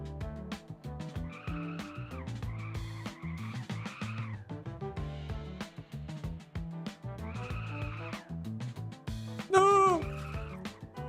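In a penguin video game, a car skids with squishy, croaking tire squeals over a busy synth music loop, ending in a bright chirpy burst as it crashes.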